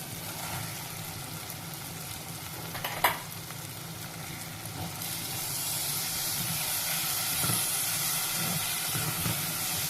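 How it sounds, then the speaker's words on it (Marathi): Rice is sautéed with lima beans in a hot pan for a Marathi rice dish, giving a steady close sizzle and hiss with occasional stirring scrapes and one louder clatter; the frying grows slightly louder near the end. "तांदूळ पण आपल्याला अगदी छान परतून घ्यायचे थोडेसे खमंग होतात"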